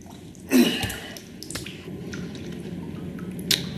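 Water squishes and drips on a floor in a horror video game, with a wet squelch near the start, scattered soft drips and another brief splash near the end.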